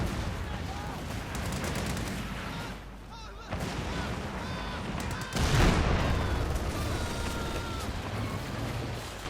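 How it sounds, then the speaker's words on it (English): Artillery fire from a white phosphorus barrage in the World War II strategy game Company of Heroes 2 rumbles as dense, continuous battle noise with a sharp louder burst near the end, while a voice talks over it. "there go more white phosphorus against another anti-tank gun plus an MG crew there"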